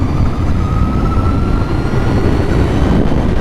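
A 2021 Harley-Davidson LiveWire electric motorcycle accelerating uphill in sport mode: a thin rising motor whine, faint under loud, continuous rushing wind noise.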